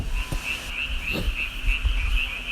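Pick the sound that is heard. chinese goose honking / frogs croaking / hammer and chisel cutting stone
frogs croaking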